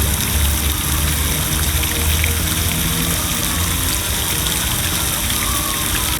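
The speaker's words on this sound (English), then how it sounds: "headed to the park where I visited the Fountain of" Water from the Fountain of Seahorses in Logan Square, Philadelphia, a loud, steady splashing rush that carries on without a break.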